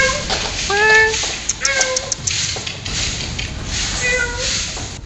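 A cat trapped on a rooftop for five days meows in a few short, tonal cries during its rescue, set against steady background noise and faint activity nearby.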